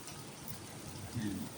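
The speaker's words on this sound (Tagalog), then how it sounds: "Bumuhos ka Uwan." Rain pours steadily over a garden plot of sugar cane and vegetables, a soft continuous hiss of falling drops, brief and fairly faint, with a voice speaking over it.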